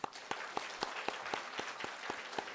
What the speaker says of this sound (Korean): 감사의 박수를 한번